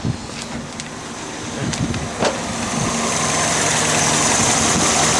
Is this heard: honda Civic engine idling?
yes